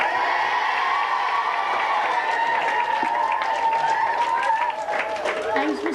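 A crowd at a celebration for the 1995 Cork county senior football champions cheers and applauds for two young players, sustained clapping with whoops and shouts, children's voices among them.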